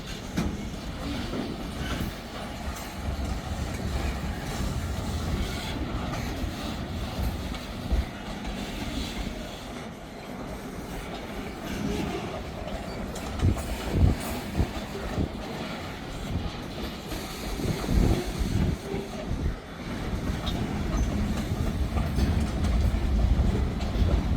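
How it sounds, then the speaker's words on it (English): A freight train with boxcars rolls across a county road crossing, a continuous loud rumble with rhythmic clickety-clack of wheels over the rails and occasional squeal, sustained throughout without talking. "I heard a rumble and I was like, man, that sounds like a train."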